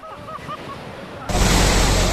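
Floodwater from a suddenly swollen canal in Muzaffarnagar, Uttar Pradesh, rushes over and washes away a road after heavy rain. The loud, continuous roar of the torrent begins abruptly partway through, following quieter noise with faint tones.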